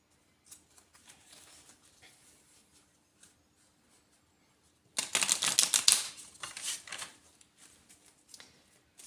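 Astrology cards are shuffled by hand: a few soft ticks and taps, then a loud, close, crackling riffle burst of about two seconds that trails off into lighter card flicks.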